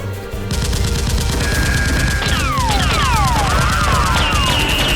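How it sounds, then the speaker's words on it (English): Rapid bursts of movie-style gunfire in a staged Nerf gun fight film crackle nonstop and loud, overlaid with whizzing, swooping ricochet effects and no talking. "Rose rushes out and shoots at XICMAN, severely wounding him"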